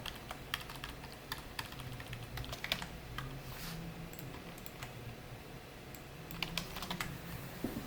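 Keys clatter on a computer keyboard during a shortcut press of Ctrl+1, a few scattered close clicks over quiet room tone, with no one talking.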